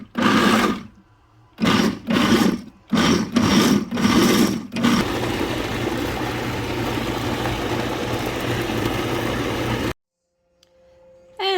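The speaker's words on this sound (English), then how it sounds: "gonna get all that blended up, and then we just have to put it in a bowl and mix it with sugar." A blender purees fruit for fruit leather, starting with four or five loud, sharp pulsed bursts, then running steadily and loudly for several seconds before cutting off abruptly.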